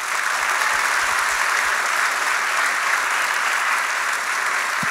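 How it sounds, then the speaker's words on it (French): At a Collège Esther-Blondin school event, an audience claps for the school's ambassador seated near the stage. Continuous, even applause from a sizable crowd holds steady and loud for about five seconds, with no talk over it. "applaudir notre ambassadeur qui est à côté de nous"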